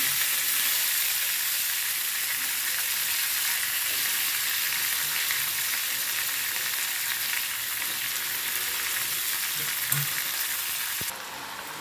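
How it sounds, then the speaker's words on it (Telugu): Curry leaves and washed poha fry in a pan for poha pulihora, giving a continuous close sizzle with faint stirring, until the hiss drops off near the end. "కరివేపాకు వేయించండి వేసి ఇందులో కడిగిన అక్కలు వేయాలి"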